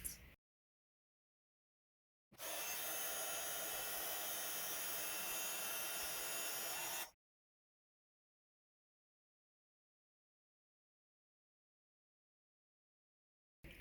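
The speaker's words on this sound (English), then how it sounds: "So I'm going to heat emboss that top section first" A heat gun blows hard for about five seconds while heat embossing a card panel, a loud, even rushing hiss that starts and stops abruptly, with silence before and after.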